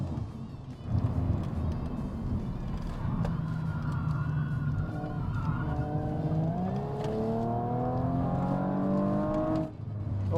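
A 2018 Audi RS5 engine drones under steady driving, then climbs in pitch as it accelerates hard through the gears, heard from inside the car with no talking.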